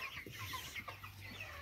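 A crowd of young male broiler chickens in a poultry house clucks and chatters continuously at feeding time, many overlapping calls forming a steady, moderately loud flock murmur with no talking.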